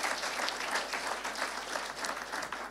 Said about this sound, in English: I want people to clap for you